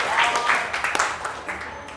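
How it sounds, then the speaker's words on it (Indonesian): Audience applause breaking out in a school classroom, a fairly brief burst of mixed clapping near the listener, with a few voices and chatter over it. "Tepuk tangan dulu."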